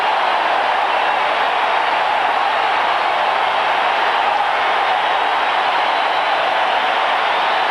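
A 49ers stadium crowd roars steadily and loudly as Montana returns to the field at a 1989 home game against the Patriots, a dense, unbroken wash of cheering with no single voice standing out.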